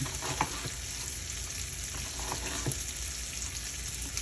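Bacon pieces fry in a pan with a continuous, even crackling sizzle and a few faint pops and stir sounds, no voices.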